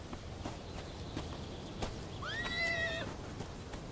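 A horse whinnies once at a rural countryside spot offering rides, a brief rising-and-falling call over faint, steady ambient noise and a few soft knocks.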